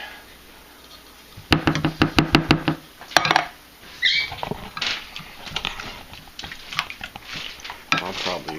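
Ingredients for a breakfast casserole with canned cream of mushroom soup are mixed in a dish, producing a quick run of sharp utensil knocks against the dish followed by softer irregular scraping and stirring, fairly close and without talk.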